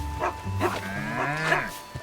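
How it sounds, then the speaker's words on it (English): Cow mooing in The Legend of Zelda: Tears of the Kingdom: a close, clear series of short lowing calls over about two seconds, with no voices. "Oh, this is a cow."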